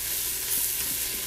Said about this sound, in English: so all the spices are mixed in nicely and getting sauteed